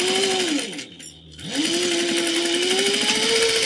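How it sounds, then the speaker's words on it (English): A sewing machine stitches a 3/8 inch seam on a zippy bag, a rapid steady whir that slows and dips briefly as it reverses for a back-stitch, then runs at speed again. "We're going to be sewing that 3/8 of an inch seam allowance."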